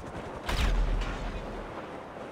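Gunfire in the video game GTA Online during a heist: a single heavy boom-like shot with a deep low rumble that decays over a second or two, moderately loud, no talk.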